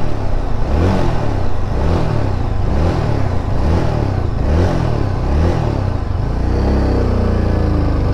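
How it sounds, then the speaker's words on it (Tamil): Yezdi Adventure motorcycle engine revved repeatedly in a rhythmic series of about seven rising and falling bursts, loud and close, before settling into a steady idle. "அப்படியே ப்ளசண்ட்டாக இருக்கும் அந்த இன்ஜின் சவுண்டு."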